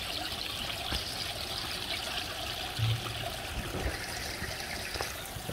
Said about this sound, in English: And I ran my water pumps in there.